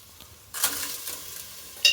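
Soaked ordinary rice goes into a pot of vegetable kuska: a quiet hiss, then a sudden wet splash and scrape as the grains land, followed by soft stirring and a sharp clink of the spoon near the end.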